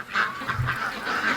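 Domestic ducks and geese flying in from a swamp toward a farmyard pen let out a quick burst of honks and quacks, several overlapping calls close by in a brief, lively cluster.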